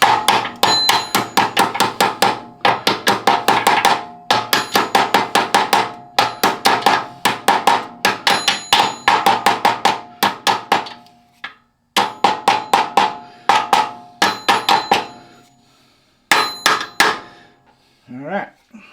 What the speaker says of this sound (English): find my little tappy tapper, and we're going to tap this